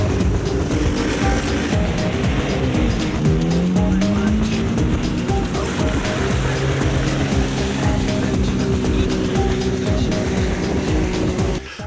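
Rally cars start an off-road competition stage, engines revving loudly with rising and falling pitch as they pull away, continuous mechanical roar throughout and close by.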